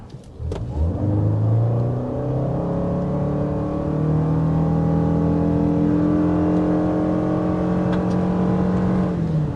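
A 2023 Toyota Sienna minivan engine revs up steadily accelerating from 0 to 60 mph, rising in pitch through gear changes, heard from inside the cabin with no talking.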